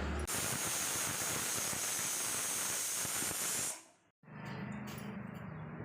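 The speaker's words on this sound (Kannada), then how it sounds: "ಗ್ಯಾಸ್ನ ಹಚ್ಚಿ ನಮಗೆ 2 ವಿಷಲ್ ಬರಲಿ." A pressure cooker on a gas stove vents steam for tomato sambar in a loud, steady hissing rush that cuts off abruptly, followed by a quieter kitchen hum.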